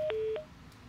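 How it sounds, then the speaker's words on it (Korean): Telephone touch-tone dialing while a broadcast studio connects a viewer's call: two short, clear DTMF beeps in quick succession, close and distinct, then a quieter line hiss. "전화 연결해 볼게요."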